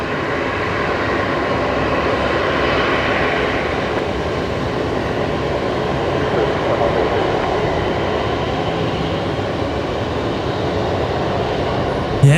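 A Qantas airliner in from Sydney lands on runway 19 left at Brisbane Airport, its engines producing a steady, broad roar at moderate distance that holds evenly throughout, under faint background talk.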